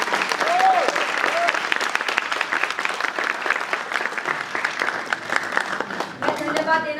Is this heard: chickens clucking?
no